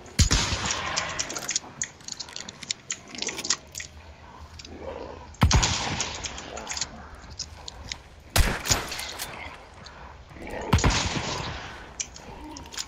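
Gunfire in the video game Hunt: Showdown, with several loud sharp shots standing out from a busy game mix of clatter and mechanical noise.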